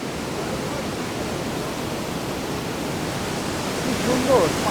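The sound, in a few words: Rhine Falls waterfall roaring up close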